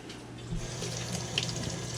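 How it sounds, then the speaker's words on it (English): A steady, soft hiss of a tortilla frying in hot oil, continuous and close, with a slight rise partway through and no voices. "When you put it down, it should sizzle."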